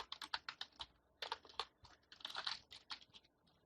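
Code typed on a computer keyboard, quick bursts of crisp close key clicks in uneven rhythm with brief pauses, fairly quiet and with no talk.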